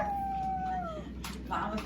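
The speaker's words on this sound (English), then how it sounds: "What are you over there howling about?" A dog gives a short howl, a wavering drawn-out tone that slides down and then breaks into brief yelps, close and fairly quiet, with a person speaking over it afterward.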